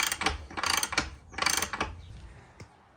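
A ratchet wrench snugs up the rear axle nut on a 2017 BMW S1000RR motorcycle, three fast bursts of clicking close up, then a lone final click fading out.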